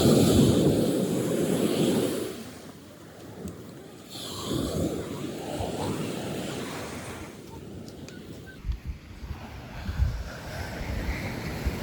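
Ocean surf rolls in at the beach where the Palomino river meets the sea, a broad rushing wash that surges and fades in slow swells, with wind buffeting the microphone.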